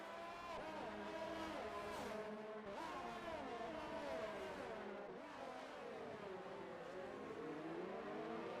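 F1 2019 race cars scream past one after another, their high engine notes rising and falling as they accelerate down a straight. The sound is steady and faint throughout.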